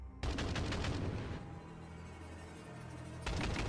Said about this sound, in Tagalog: Gamit ang baril na may kaunting bala, ay binaril niya ang mga ito.